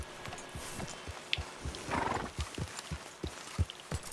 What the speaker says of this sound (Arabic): الحصان متوتر يا جماعة